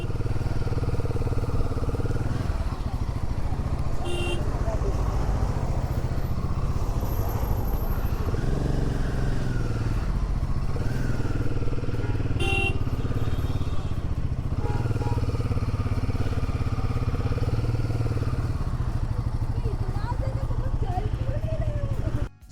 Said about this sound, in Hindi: ये बाइकर ग्रुप आ गया ना पूरा।